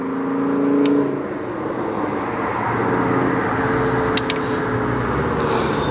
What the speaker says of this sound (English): Aston Martin come back around again.